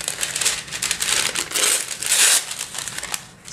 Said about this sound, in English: I like to use a piece of wax paper